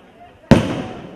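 A single sharp firecracker bang bursts loudly at a political rally, followed by a decaying crackling tail, with crowd noise underneath.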